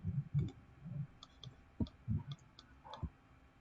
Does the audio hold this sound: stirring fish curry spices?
no